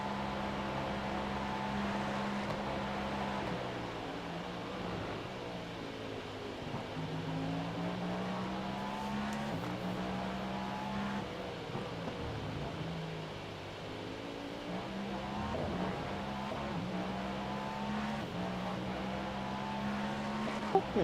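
A Porsche 919 race car in the iRacing simulator accelerates repeatedly, its engine note sweeping up through the gears with brief drops at each shift, moderately loud and with no voices.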